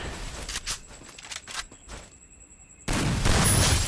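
Gunfire from a Free Fire custom match sounds as quick clusters of sharp, crackling shots over the first two seconds, followed by a thin tone and then a sudden loud, dense roar of in-game noise.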